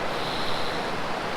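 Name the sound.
clear stream water running by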